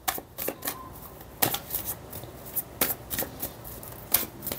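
A tarot deck is handled during a reading: a run of sharp card flicks and shuffling riffles, close and crisp, with several quick bursts spread across a quiet room and no talking.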